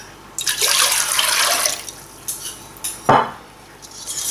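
Hot water is poured into a saucepan while making Filipino coffee jelly with gelatin, a close splashing pour lasting over a second, followed by a few light clinks of a utensil against the pan.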